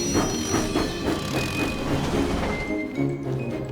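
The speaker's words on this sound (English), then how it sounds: "Thomas huffed happily out of the steamworks with Annie and Clarabelle" A cartoon steam engine runs along the rails pulling two coaches, a steady rhythmic chugging and clatter of wheels with faint squealing tones.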